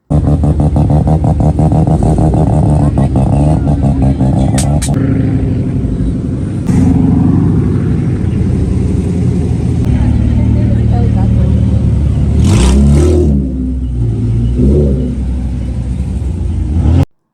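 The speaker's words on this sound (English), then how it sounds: "it's a Dodge Challenger convertible" Dodge Challenger convertible engine running steadily and loud throughout, with a few revving swells and a voice talking over it at times.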